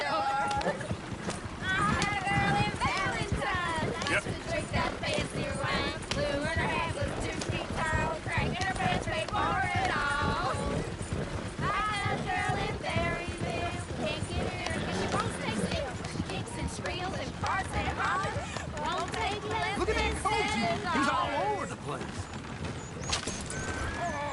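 Horse hooves clip-clop steadily in the open world of Red Dead Redemption 2, a continuous trotting rhythm mixed with background game sound and characters talking throughout.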